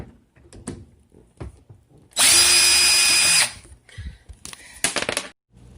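A power tool backs out screws under the door of a dishwasher being removed, with one loud sustained whirring burst followed by a shorter one, surrounded by close clicks and knocks.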